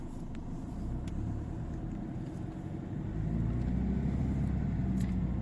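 A car driving on the road, heard from inside as a steady low engine and road rumble that grows slightly louder partway through. No one speaks.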